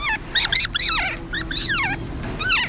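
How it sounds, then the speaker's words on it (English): Red knot (Calidris canutus) calling, a series of loud, close, bright chattering notes that rise and fall, repeated in quick bursts with short gaps. "Today's Talkin' Birds featured feathered friend, Calidris canutus, a red knot."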